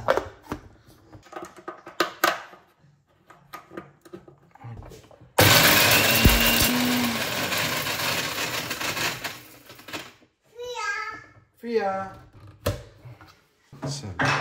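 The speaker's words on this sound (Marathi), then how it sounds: "आणि याला फक्त मिक्सरमध्ये आपल्याला काढून घ्यायचं आहे" An electric mixer grinder grinds a mixture with cardamom in a home kitchen, roaring loudly for several seconds, then easing off and stopping. People talk before and after the whir.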